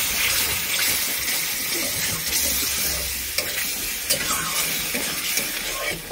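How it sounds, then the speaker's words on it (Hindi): Water is poured into a hot pan of spiced oil while cooking a coconut prawn curry, producing a steady loud hiss and sizzle that carries through with a few small pops. "इसमें हम थोड़ा सा पानी डाल देंगे।"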